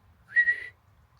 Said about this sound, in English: My lips were so dry I can't whistle.